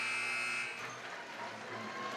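A basketball arena buzzer blares at halftime of a boys' high school game, a loud steady electronic tone that cuts off partway through, leaving crowd noise behind.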